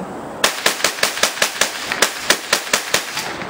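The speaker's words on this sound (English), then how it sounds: "Just shoot it in the ground a few times." A rifle fired into the ground outdoors lets off a rapid string of about fourteen sharp, loud, close reports in quick, slightly uneven succession, with no voices.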